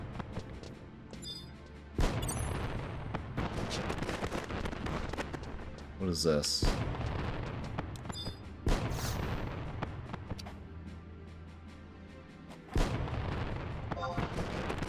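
Fireworks bursting over a town in the video game Final Fantasy XI, with loud booming blasts roughly every few seconds over game music and someone talking.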